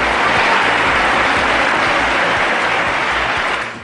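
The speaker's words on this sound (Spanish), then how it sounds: "No dejan de sorprendernos los constantes aplausos" Loud, dense applause from a large crowd in parliament, sustained evenly and then starting to fade at the very end.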